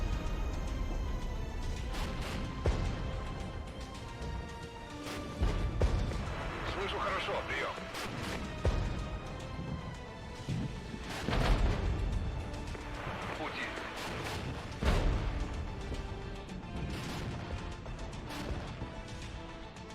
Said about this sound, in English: Bombing my HQ unit.